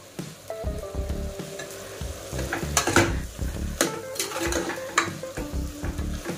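Fenugreek leaves fry in oil in their own water, crackling and sizzling while a spatula scrapes and clinks against the pan in repeated stirring strokes, close and moderately loud, with no speech.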